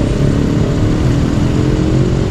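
A parked vehicle with its hazard lights on and no driver inside idles at the roadside during a street clamping operation, its engine rumbling low and steady throughout.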